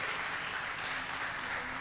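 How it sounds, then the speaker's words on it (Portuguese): A church congregation claps during a family worship service, a brief, even wash of applause at moderate distance with no individual claps standing out. "Salva de palmas para ele."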